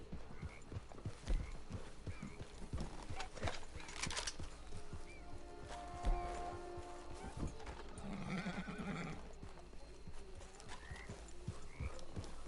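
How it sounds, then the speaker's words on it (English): Horse hooves and neighing in Red Dead Redemption 2, with rhythmic clip-clop steps over quiet game ambience and a clear whinny cutting through midway, the horse close and moderately loud. "Get your horse."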